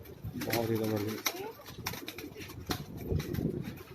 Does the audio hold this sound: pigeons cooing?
yes